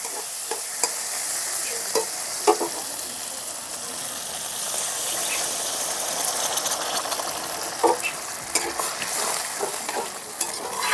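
Spiced potatoes sizzle and bubble in a pan after water is poured in, a steady hiss of frying with occasional stirring scrapes and clinks throughout, moderately loud and close, with no talking.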